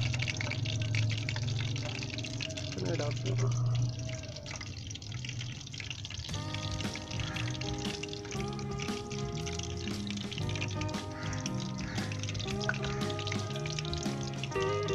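Papri dough frying over low heat in about 1.5 cups of vegetable oil, a steady close sizzle and bubbling hiss that runs throughout, with background music joining partway through.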